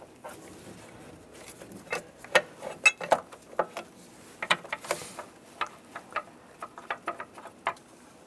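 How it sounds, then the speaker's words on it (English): Bolts being started by hand on a sensor bracket of a 2011-2018 Ram 1500 with the 3.6L V6, heard as close, scattered metallic ticks and ratcheting clicks in an irregular rhythm, with no talking. "And get all the bolts started."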